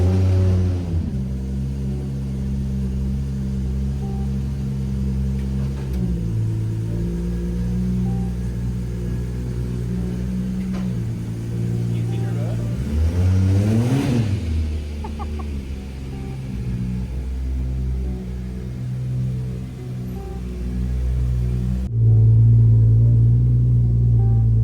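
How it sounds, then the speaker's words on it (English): A car doing skids at a busy car meet. Engine drone and rumble hold steady, with a brief rising-and-falling rev surge midway, heard from a moderate distance. "Oh, someone's doing skids."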